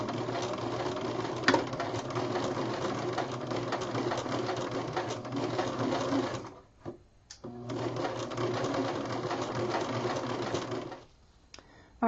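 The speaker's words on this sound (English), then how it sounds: "I'm just going to go slowly, making sure that I'm sewing in a straight line" A sewing machine stitches a flat felt seam in fabric at a slow, steady pace. It runs as a continuous close whir, stops briefly around the middle, resumes, then halts near the end.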